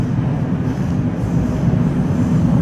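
Moscow metro train running on the Nekrasovskaya line, a loud, steady low rumble and roar of the carriage in motion, continuous throughout with no voices.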